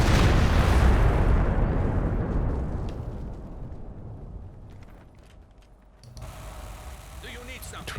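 B4 howitzer firing in Company of Heroes 2: one massive, booming blast opens loud and close, then rolls off into a long fading rumble, with faint clicks and battle noise and a brief renewed rustle near the end.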